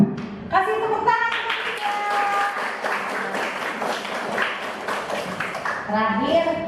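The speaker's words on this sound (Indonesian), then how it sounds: "Kasih tepuk tangan." A classroom breaks into applause during a civics lesson: a short burst of clapping that swells, holds for several seconds and fades, with voices audible under it.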